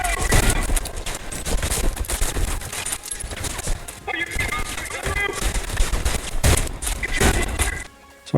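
Choppy, sped-up gunfire from the Trepang2 video game: dense rapid bursts of shots run almost continuously at loud level, with a brief drop near the end.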